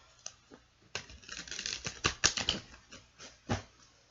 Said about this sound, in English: we have 2 more shuffles, and then we'll pull a card